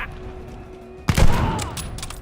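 Gunfire in the video game Call of Duty: Vanguard, a loud burst of shots that erupts suddenly after a quieter stretch and keeps rumbling on, with no talk over it.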